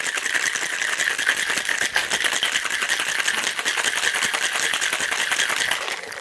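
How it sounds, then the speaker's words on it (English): A cocktail shaker with a metal mixing tin and glass is shaken hard and continuously for about six seconds, producing a loud, dense, even rattle of ice with no talking. "Shake for 6 seconds."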